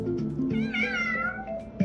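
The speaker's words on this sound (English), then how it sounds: "there's a kitten purr noise that came" A kitten's cry in the BloxxBuilder video game: one short, clear, mewing call with a rising and falling pitch, heard up close over a steady game background.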